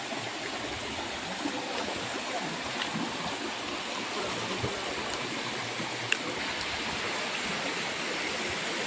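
Chakratirtha waterfall beside a temple sends icy cold water rushing down in a steady, unbroken roar that holds evenly throughout.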